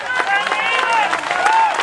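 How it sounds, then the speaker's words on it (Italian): A crowd claps steadily at an amateur talent show in Ruvo di Puglia, Italy, with voices calling out over the applause throughout. "Applauso per Ivan."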